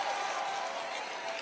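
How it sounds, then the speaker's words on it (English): Rally crowd giving loud, sustained applause and cheering, a dense, even roar of clapping throughout with no break. "I can't even believe they give me thunderous applause"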